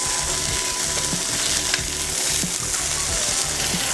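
Salmon fries in a pan with a loud, constant crackling sizzle close by and a faint rhythmic pulse underneath.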